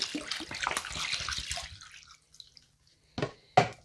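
Water pours in a short splashing stream into soaking sunflower seeds, then stops; a few faint drips follow before two brief sloshing bursts close by.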